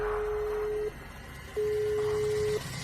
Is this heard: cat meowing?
no